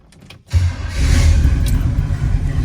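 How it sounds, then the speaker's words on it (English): 1966 Chevrolet Nova Chevy II with a 327 V8 cranking briefly, then catching and settling into a loud, deep, rumbling idle, close and alone. "Car starts right up"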